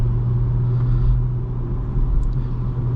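A 2024 BMW M340i xDrive with a turbocharged engine accelerates, heard from inside as a steady, deep droning rumble with a low engine tone beneath road noise.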